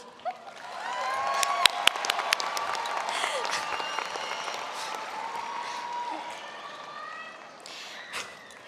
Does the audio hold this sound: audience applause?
yes